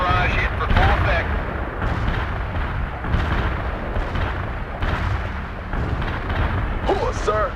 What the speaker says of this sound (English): Artillery barrage hit for full effect.